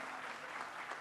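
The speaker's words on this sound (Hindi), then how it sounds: "एक बार दिल से ना जोरदार ताली हमारे सर के लिए" Applause from a live television show audience in a studio, a dense, steady clatter of many hands clapping close and loud for about a second with no voices heard.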